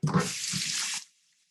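A short burst of running tap water splashes for about a second, then cuts off to silence.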